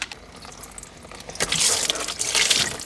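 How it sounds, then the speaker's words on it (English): Engine coolant splashing out of a disconnected oil cooler line on a VW/Audi 2.8L engine, a soft trickle that swells into a steady, gushing pour partway through. "after waiting for all the coolant to drain out"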